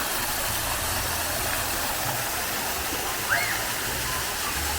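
Broad, steady rushing water from a water park waterfall pours continuously, close and loud, with a faint voice barely audible beneath it.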